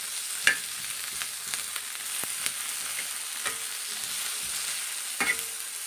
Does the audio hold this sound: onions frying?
yes